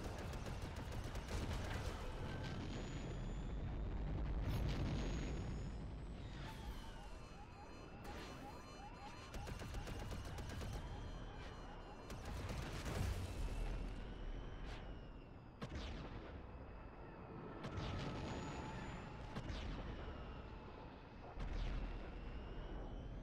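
Blaster fire in LEGO Star Wars: The Skywalker Saga rings out as dense bursts of shots over whining, siren-like electronic game effects, loud and continuous with no pauses.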